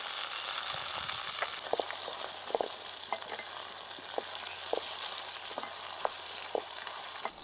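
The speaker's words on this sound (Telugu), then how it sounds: "ఇప్పుడు పెద్దలపాయలు వేసుకుని దోరగా వేపుకున్న తర్వాత ఇందులో కాకరకాయలు కూడా వేసేసుకుందాం." Bitter gourd pieces fry with onions in hot oil, a steady dense sizzle punctuated by scattered stirring clicks and scrapes from a spoon against the pan, with no talking.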